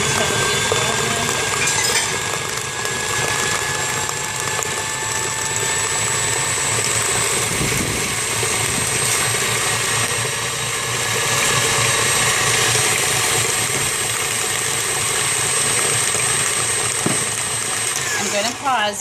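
Stand mixer running at low speed with filling for a French silk pie in its mixing bowl: a steady, continuous motor whir and hum that holds throughout, with no voices.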